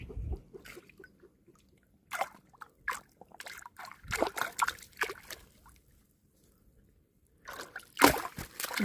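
Fish thrash in the shallow water of a draining pond, sending out several bursts of close splashing and sloshing with quiet gaps between them.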